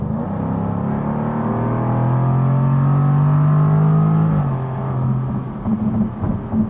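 A Jaguar F-Type R engine pulls hard, its loud exhaust note climbing steadily in pitch before dropping sharply on a quick gearshift and continuing to rev.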